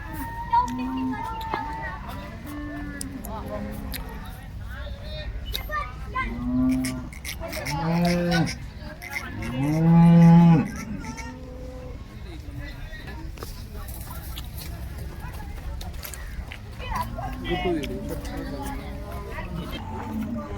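Cows moo repeatedly at a cattle market in Loni, several long, loud calls from different animals, with a person talking in the background throughout.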